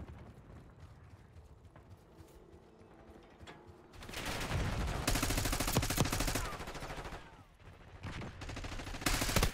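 Rapid automatic gunfire from a Black Ops 6 first-person shooter match, loud bursts of repeated shots, heaviest from four seconds on, with separate volleys toward the end and no talking.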